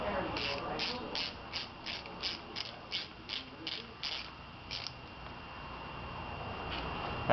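A ratchet tightening the mounting of a GY6 scooter starter relay, about a dozen quick evenly spaced clicks close by, then a quiet pause with a faint steady hum.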